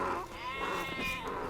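Several sheep bleat in Age of Empires II: Definitive Edition, overlapping in a steady, fairly loud chorus of wavering calls over game background sound.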